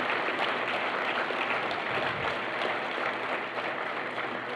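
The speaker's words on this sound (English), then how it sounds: "Let's give one more heartfelt round of applause to all of our honorees and generous sponsors" Banquet-hall audience at a Chamber of Commerce awards banquet in Fairfield, Iowa applauding honorees and sponsors: a steady, dense roll of clapping at moderate level, sustained without pause and without talk.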